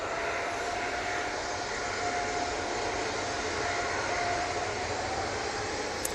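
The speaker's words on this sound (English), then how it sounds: "And that 321neo off to Dalaman." An Airbus A321neo jet departs Manchester Airport for Dalaman, its engines a steady, fairly distant roar holding even throughout, with a faint whine running over the rumble.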